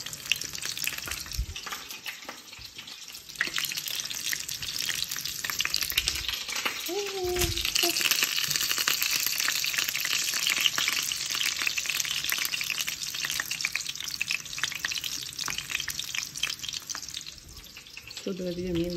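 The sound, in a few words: frozen food frying and popping in hot oil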